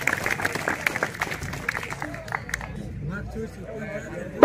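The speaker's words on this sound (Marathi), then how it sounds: "टाळी वाजवा ना जरा" Crowd clapping along at a village fair wrestling bout, patchy scattered applause mixed with loud crowd chatter and shouting, dense and close, fading somewhat toward the end.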